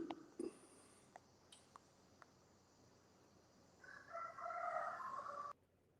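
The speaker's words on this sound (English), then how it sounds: "Y'all heard the chickens in the background?" Roosters crow at dawn, one long distant cock-a-doodle-doo rising late in the scene over quiet ambience with a few faint knocks before it.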